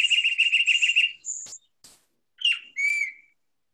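A tufted titmouse whistles a quick run of clear, repeated two-note phrases, followed by a few scattered separate whistles and chips, close and alone against silence.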